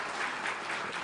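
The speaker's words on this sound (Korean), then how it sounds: "박수로 한번 좀 환영해 주시기 바랍니다" A church congregation claps together to welcome returning missionaries, a dense, even burst of applause filling the hall for about a second.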